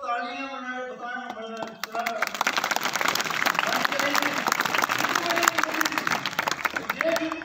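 A crowd at a public address breaks into clapping after a man's speech, dense rapid applause rising and continuing steadily while his voice carries on over it.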